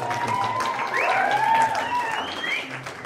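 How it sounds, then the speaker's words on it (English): Audience applause and clapping at a university music night after a hip hop rap performance, a moderate steady patter under a sustained melodic tone, with a little voice mixed in. "Best clap of the song."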